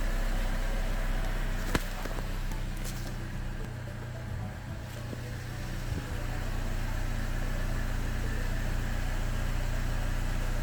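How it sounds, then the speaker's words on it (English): A 1.4L Buick Encore engine idles steadily with a low, constant rumble and hum, close and unchanging throughout, with no voices. "start the vehicle and let it idle for at least 5 minutes"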